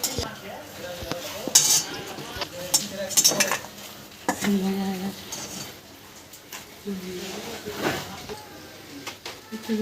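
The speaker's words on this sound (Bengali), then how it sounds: "একটু বড়ি ভাজা কর, এবার বড়ি ভেজে নিচ্ছি।" Sun-dried lentil dumplings frying in a pan, with frequent clinks and scrapes of a metal spatula against the cookware and a light sizzle underneath, and intermittent talking throughout.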